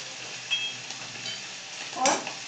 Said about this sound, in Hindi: तेल गरम होने के बाद हमने जो उसमें मसाला बनाया है उसे हम चलाते रहेंगे